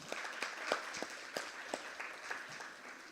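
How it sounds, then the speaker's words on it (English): An audience applauds at a volunteer programme launch event, a soft, scattered patter of claps heard from some distance. "I think that deserves a round of applause"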